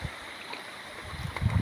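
Water from a natural spring flows and trickles softly nearby, a steady low gurgle with a few louder splashes toward the end.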